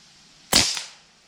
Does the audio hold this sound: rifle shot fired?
yes